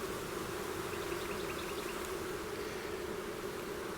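Honeybees hum around an open frame pulled from a seven-frame nuc hive. The dense buzzing drone holds steady throughout at a close, even level, with no speech.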